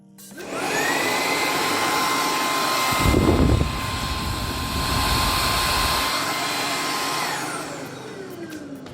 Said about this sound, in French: on a un bruit de soufflerie très présent avec effectivement pas mal de vent qui est éjecté à l'arrière de l'aspirateur